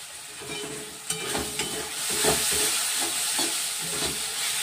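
Chicken masala fries in a pan while being stirred, with a loud, close sizzle broken by scraping spoon strokes and clacks against the pan.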